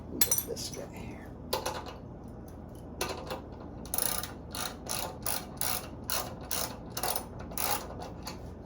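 Ratchet with a deep socket tightening a front sway bar bolt on a 1955 Chevrolet Bel Air, a series of quick clicking bursts close up, some short and some longer runs, with faint background noise.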